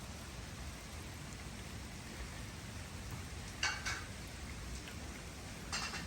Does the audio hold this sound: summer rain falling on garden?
yes